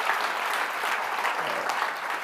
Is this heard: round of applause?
yes